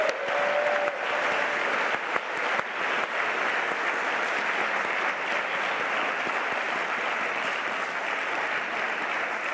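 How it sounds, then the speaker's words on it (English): Sustained applause from a large audience at a December 2025 master's graduation ceremony, a dense steady wash of clapping that holds at full strength for nearly ten seconds with no pause. "A big round of applause"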